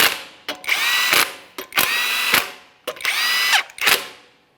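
A power tool snugs the lug nuts on a Jeep Grand Cherokee wheel in three loud, close bursts of whirring, each starting with a short rattle and ending with a ratcheting stop.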